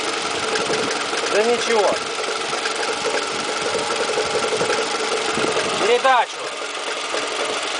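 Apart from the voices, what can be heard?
Toyota 2AZ-FE engine knocking near the starter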